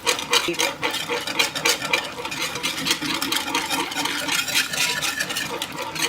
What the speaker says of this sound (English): You're just going to keep on mixing that